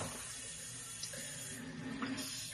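Tap water runs steadily into a kitchen sink while dishes are washed. The flow is a continuous, fairly close splashing hiss with slight shifts as the stream hits plates, and no one speaks over it.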